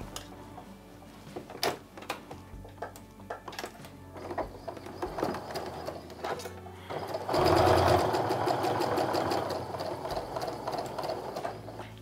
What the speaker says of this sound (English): Find it a little easier to sew on top of lines when it's in the center like that.